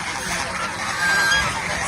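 Geese on a farm honk in a dense, continuous chorus that stays loud and even throughout, with no other sounds standing out.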